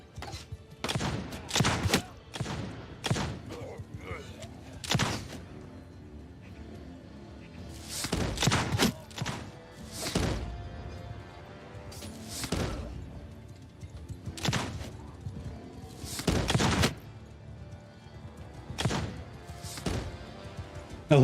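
Musket-style gun volleys from pirate troops in the Old Realms mod battle, with repeated sharp cracking bursts roughly every one to two seconds across the whole stretch, some shots clustered into ragged volleys over low battlefield noise.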